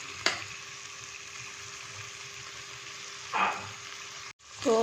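Potatoes and peas are stirred with spices in a hot pan, giving a soft steady sizzle, with a few brief scraping stirs on top and nobody talking.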